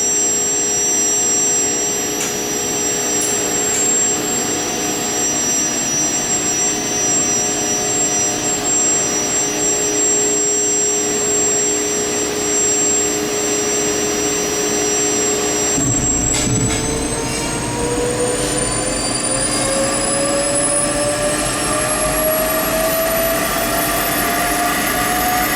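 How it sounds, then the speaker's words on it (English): A gas turbine at a mechanical facility spun up by batteries and firing under no load gives a steady loud whine and roar, then after about sixteen seconds lights off with a deeper rumble as its tones climb steadily in pitch. "Those are the batteries that are now spinning the turbine,"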